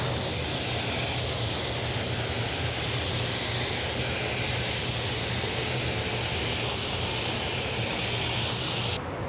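Spray gun applying a pearl white basecoat blend in automotive refinishing with Spies Hecker Hi-Tec paint, a steady close continuous airy hiss that cuts off abruptly at the end, no talking.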